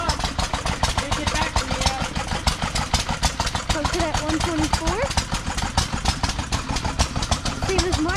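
A Cub Cadet 782 lawn tractor engine idles steadily with a rapid, even putter, loud and close, while people talk over it at an outdoor fair.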